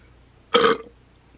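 A single loud burp lasting about a quarter second, standing alone against near silence with a strong voiced tone.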